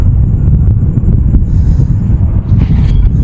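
Steady, loud outdoor wind by a fish pond buffeting the microphone, a constant low roar with occasional gusts and no voices.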